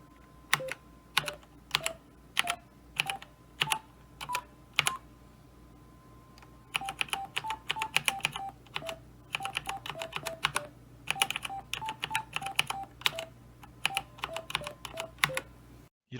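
Number keys on a computer keyboard are pressed one by one, each triggering a short Python winsound beep tone, so crisp clicks and brief pitched beeps form a simple tune, with a pause midway and denser key presses afterward.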